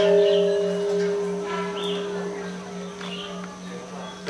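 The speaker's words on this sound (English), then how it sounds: "Now ring the big bell." A big bell at a Buddhist temple in Chiang Mai hums with long, sustained tones that slowly fade, alongside faint outdoor sounds.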